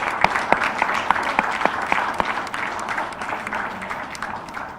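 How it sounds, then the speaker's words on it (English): Conference audience gives a round of applause for the armed forces at a capital market event, a moderate burst of scattered hand claps that is sharp and distinct at first, then settles into a softer, thinning patter. "Please thank them with a round of applause."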